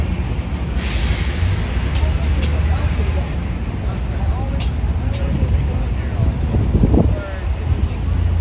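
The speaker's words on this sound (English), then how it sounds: "The wind is actually really picking up." Wind picks up on a Midtown Manhattan street at night, a constant low rumbling buffet against the microphone mixed with faint city traffic noise.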